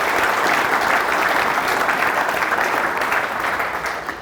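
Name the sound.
audience applause for the construction team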